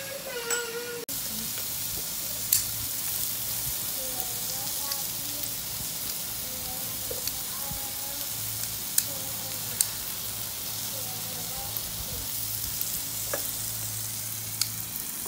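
Food grilling in oil on a Deliets electric grill pan, a steady close sizzle and fry with scattered crackles and pops running throughout, with faint voices briefly under it.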